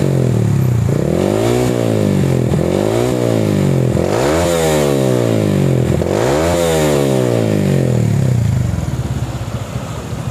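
A Yamaha MX King motorcycle with a racing exhaust revs hard through repeated rising and falling sweeps, its engine loud and close the whole time with no talk.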